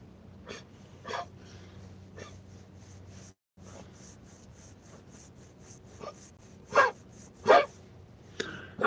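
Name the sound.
pregnant dog making sounds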